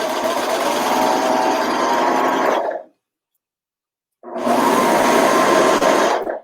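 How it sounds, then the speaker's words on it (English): A serger stitches a 5/8-inch seam on a T-shirt, with a loud, close, steady mechanical whir that stops for over a second and then starts again. Nobody talks over it. "put that underneath the presser foot of the serger. I'm going to stitch along here"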